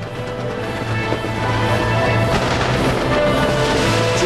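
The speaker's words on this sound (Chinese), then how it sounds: "这些烟火呢分成6个地方来释放" Fireworks launched from six sites across Taipei burst in the night sky during a Deaflympics celebration, a continuous rumbling wash of distant booms and crackles with a few sharper bangs.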